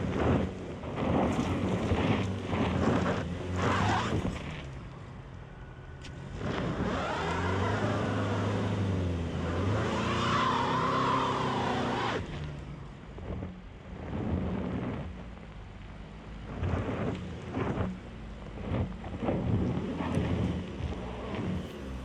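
A 2020 Toyota Highlander Hybrid strains on a steep off-road climb, with engine and drivetrain roar rising and falling, loud wind buffeting and rumbling across the microphone, and the effort surging in long waves without getting up.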